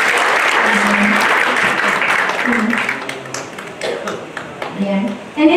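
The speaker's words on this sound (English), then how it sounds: "Palakpakan naman po natin ang Lord." A church congregation applauds during a sermon, a loud, dense wash of clapping that thins out over several seconds, with scattered voices and a few lingering claps at the end.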